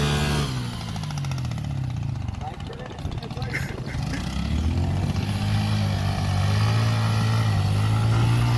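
Motorcycle stuck in loose beach sand at Kuakata, engine revving hard and rising in pitch with wheel-spin grinding, close and loud, while people shout over it.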